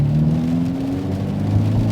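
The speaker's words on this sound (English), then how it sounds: "sport mode has the active exhaust enabled. Oh, it so I'll give it a bit of gas and you'll hear it." A 2019 Hyundai Veloster N in sport mode, active exhaust open, gives a short, smooth rev that rises and settles, close and steady with no talking over it.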